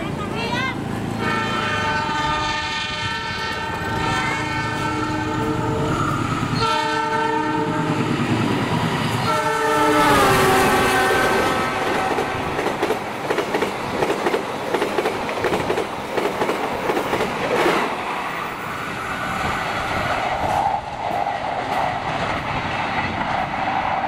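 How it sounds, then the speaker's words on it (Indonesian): Argo Bromo Anggrek passenger train passing close by in Indonesia, a sustained horn blast up front giving way to loud rumbling wheels and rhythmic clacking over rail joints as the cars roll past. "Kemudian kereta api Argo Bromo Anggrek 1."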